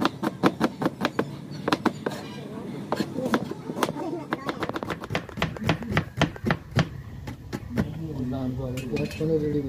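A knife chops onions on a board for mutton bhutan, sharp rhythmic clacks in quick runs with pauses, close and crisp, while a voice talks underneath.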